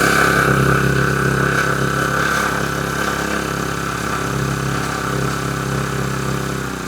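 A Varsha G45 four-stroke brush cutter engine runs steadily at a loud, close, constant drone with a buzzing mechanical tone, choke pushed down after starting and throttle applied, with no talk over it.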